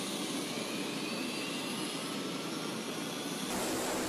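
A C-130 Hercules military transport aircraft gives a steady, loud engine roar that holds without a break for the whole stretch, with no voices over it.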